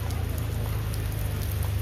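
Monsoon rain falls in a dense, continuous hiss, with a low steady rumble underneath and no voices.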